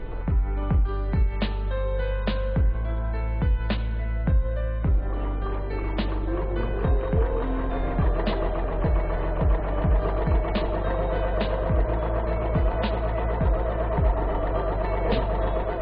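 A computerized embroidery machine stitches with blue thread, a fast steady whirring drive punctuated by regular sharp clacks of the needle mechanism, close and continuous throughout.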